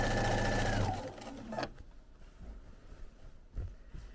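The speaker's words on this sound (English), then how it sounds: "stitch down the center of that tape" A sewing machine runs fast and steady, stitching down the center of tape on the back side of a quilt, then stops after a second and a half, leaving quiet room noise with a few soft knocks.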